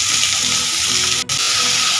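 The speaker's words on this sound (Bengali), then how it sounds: "ঝিঙেগুলো আলুর সাথে 2 থেকে 3 মিনিট ভেজে নিয়েছি" Ridge gourd pieces frying with potatoes in a pan, a steady close sizzling hiss that runs continuously with one brief dip partway through, no voices.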